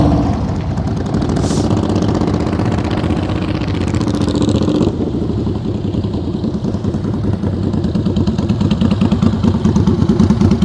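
A motorcycle creeps along in first gear during slow-speed riding practice, its engine putting out a loud, steady, chugging rumble that continues unbroken, with a brief higher tone near the start.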